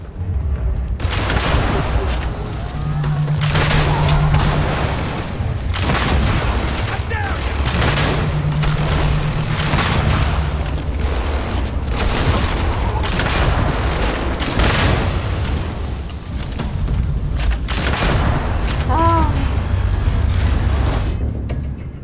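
Repeated bursts of gunfire from the video game Starfield, loud and dense, with booming shots stacking into volleys across the clip while a player talks over the action.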